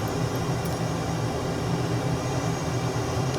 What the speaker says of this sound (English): Very loud aircraft.